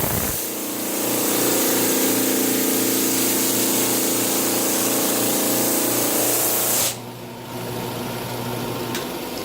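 A Flatmaster sander grinds spray paint off MDF with a loud, steady broadband roar and a constant motor hum. It runs for several seconds, then drops to a lighter whir as the load eases.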